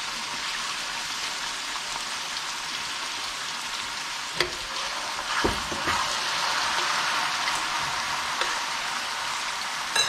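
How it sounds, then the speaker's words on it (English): Vinegar and sugar cooking over a high flame, a steady crackling sizzle that runs the whole time, with a few soft knocks and stirring sounds and no voices. "And you cook that on a high flame so that some of that vinegariness evaporates"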